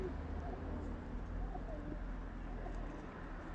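Soft pigeon cooing mixed into a steady low background rumble, continuous and fairly faint throughout.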